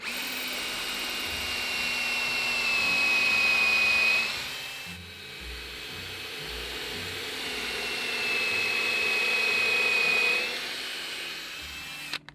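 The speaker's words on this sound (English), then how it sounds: "So you see that drills the pilot hole so that the screw doesn't split it." A power drill fitted with a pilot and countersink bit bores into wood, a steady high whine rising in two long sustained runs with a dip between, close and loud.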